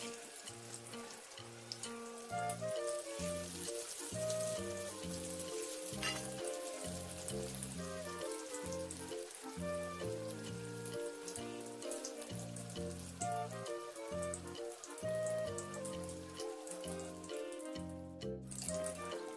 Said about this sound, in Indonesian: Lalu, goreng martabak dalam minyak panas.